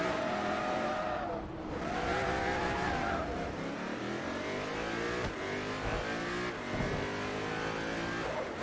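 Race car in Forza Motorsport 3 roars through a North America tour event, engine revving up and down through gear changes with tire squeal and skidding, loud and continuous close-up game audio without talk.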